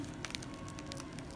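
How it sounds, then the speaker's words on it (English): Freshly baked sourdough loaf just out of the oven, its crust giving faint, scattered tiny crackles and pops over a dense low background noise. "That's the sound of fresh bread, just out of the oven."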